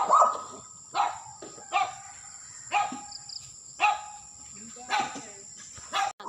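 Dogs bark in sharp single yaps, about one a second, six or so in a row, set a little distance off against a quiet background with faint insects.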